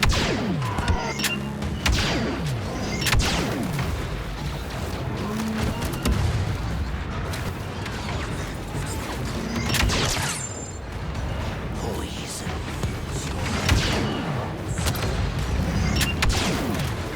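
Continuous gunfire and heavy booms in Apex Legends, a loud, chaotic barrage of rapid shots running throughout with a voice faintly mixed in.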